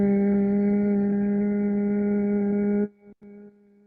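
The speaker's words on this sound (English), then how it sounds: "we'll begin with just the sound of a hum through sealed lips" A steady, strong hum through sealed lips during yoga breath work for recovery, one long sustained tone that stops abruptly near the end, followed by a short quieter trailing hum.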